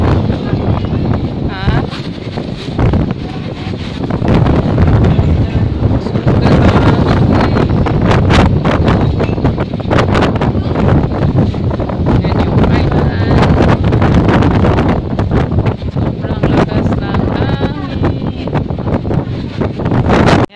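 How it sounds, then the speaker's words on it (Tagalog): Strong, steady wind buffets the microphone throughout with a loud continuous roar and gusty rumble, and faint outdoor sounds underneath, near an island boat crossing at an islet resort. "Ang lakas ng hangin."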